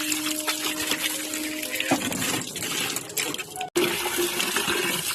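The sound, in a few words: washing harvested potatoes in water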